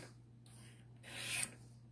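A knife is drawn across a Lansky Turnbox sharpening rod in a few soft, close rasping strokes, the last one swelling louder, over a faint steady hum.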